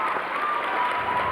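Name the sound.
karate tournament crowd applauding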